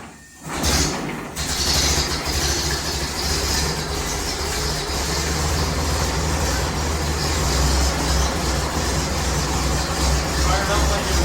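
A 1922 Dodge Roadster engine catches after a brief cranking start and settles into a steady, loud idle that runs on continuously with a low droning rumble.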